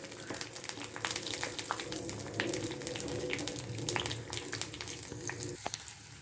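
Garlic and green chilli masala for a vegetable sodhi frying in a pan makes a quiet, continuous sizzle scattered with small crackles and pops.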